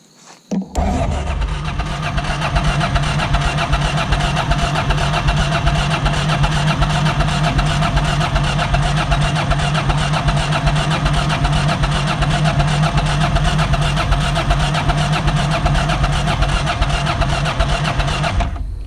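A Honda VT700 motorcycle is powered on, and a loud, steady mechanical hum runs for nearly the whole clip, consistent with its fuel pump running after a short initial click.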